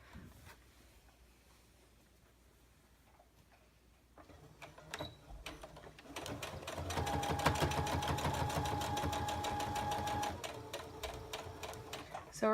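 Sewing machine stitching along a curve, set to a 2.5 stitch length; a quiet start gives way to a steady, loud mechanical run of rapid rhythmic ticks from about six seconds to the end.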